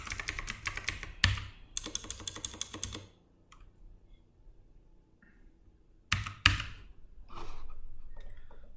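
Rapid typing on a computer keyboard comes in two dense bursts of clicking keystrokes, separated by a quiet gap and followed by a few more taps and a soft rustle.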